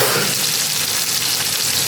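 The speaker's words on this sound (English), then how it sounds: "Nicely sizzling in the oil." Steady, dense sizzling of lemon fish and mussels frying in hot oil in Goa, a continuous crackling hiss close by with no talking.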